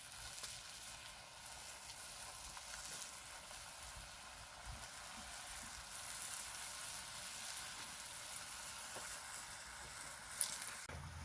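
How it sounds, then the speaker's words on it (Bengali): Jackfruit koftas fry in oil with a steady, quiet sizzle that continues without pause, and nobody speaks. "বাকিগুলো একইভাবে ভেজে নেব।"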